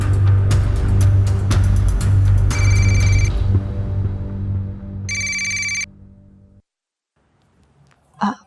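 A telephone rings in a few electronic bursts, loud and close, over a low steady background hum, then cuts out into near silence before a brief sound at the end.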